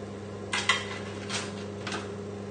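A utensil scrapes and clinks against a pan three times as roasted vegetables are pushed around lamb shanks, short metallic scrapes over a steady background hum.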